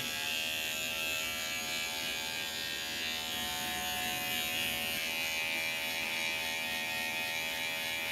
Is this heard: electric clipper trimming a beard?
yes